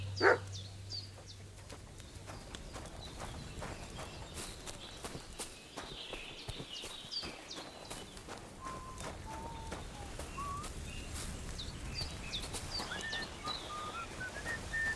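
Dog in the video game Kingdom Come: Deliverance II, with dog sounds heard alongside footsteps and hoof-like clopping over an outdoor game ambience, fairly faint and steady throughout.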